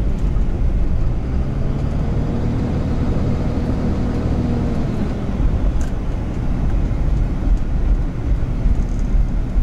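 Inside the cab of a Ford dually truck with a Cummins diesel swap, driving on the street: a steady, muffled low rumble of engine and road noise that holds continuously without clatter or voices.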